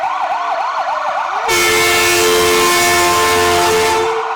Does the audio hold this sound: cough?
no